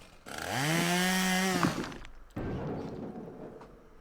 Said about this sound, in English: we'll try the drill